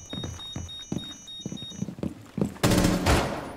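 Rapid rifle fire in the tactical shooter Rainbow Six Siege, with a run of separate shots from an R4-C rifle followed by a louder, denser burst near the end.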